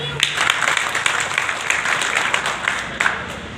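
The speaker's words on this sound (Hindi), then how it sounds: "एक बार उनका स्वागत में ताली बजाएं।" Audience applause at a community event in Rewari, Haryana, marking the Vikram Samvat 2082 new year, a dense, steady wash of many hands clapping that runs nearly unbroken from start to finish, loud and close.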